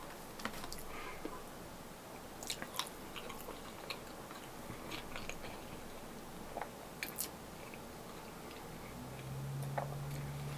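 Home fries being chewed at a diner, quiet close crunching and soft clicking bites scattered across the stretch, faint against a low room background.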